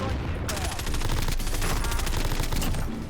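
Rapid automatic gunfire rattles loud and close in the Call of Duty: Warzone video game, a sustained fusillade that starts after a brief pause and runs dense to the end.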